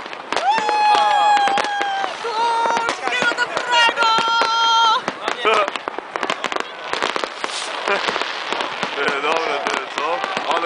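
New Year fireworks and firecrackers going off in a crowd, dense rapid crackling bursts and bangs near and loud throughout, with people shouting and talking over them.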